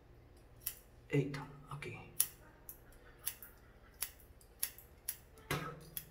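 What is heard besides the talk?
scissors cutting hair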